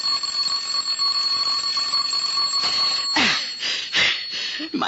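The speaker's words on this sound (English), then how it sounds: "I said the doorbell." A 1950 radio-drama doorbell rings as a steady electric tone, joined near the end by a few brighter strikes, with voices and a hissy old-recording background.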